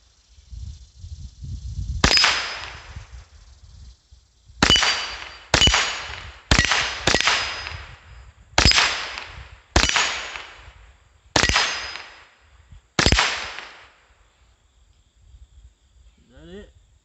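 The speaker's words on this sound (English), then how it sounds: "Let's do some plinking over here at the steel." Eight sharp .22 LR rifle shots from a Winchester Wildcat, each followed by a bright metallic ring from steel targets, fire at uneven intervals, loud and close, with the rings decaying between shots.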